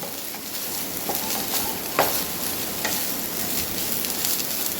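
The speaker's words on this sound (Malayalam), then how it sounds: "ഈ സോയ നമുക്കൊന്ന് വഴറ്റി കൊടുക്കാം" Soya chunks with masala are sautéed in an oiled pan, producing a loud, continuous sizzle with occasional stirring scrapes and taps, and no voices.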